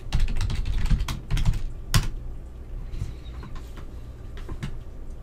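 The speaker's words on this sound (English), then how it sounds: "So I'll type in yes, and then the password." Fingers typing a password on a computer keyboard, with quick bursts of clicky keystrokes that thin out into scattered presses, close and clear, with faint bird coos in the background and no talking.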